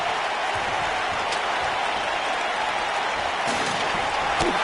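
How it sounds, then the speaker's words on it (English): A large arena crowd in Philadelphia at a WWE 2K19 wrestling match cheers and roars as a dense, continuous wash of noise, steady and loud with no breaks. "We've got a raucous crowd here in Philadelphia tonight"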